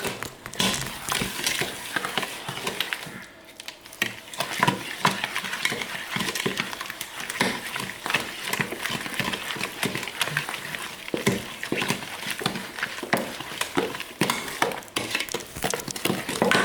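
Steady scraping and wet slapping as almond croissant cookie dough is stirred in a bowl, a continuous close-up rhythm of strokes with a brief pause.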